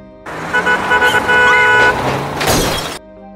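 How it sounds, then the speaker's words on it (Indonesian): A car horn blares in a short honk as a vehicle speeds recklessly past someone, loud and close, with a crash-like burst near the end. "ada setan yang menyetir dengan ceroboh dan hampir menabraknya"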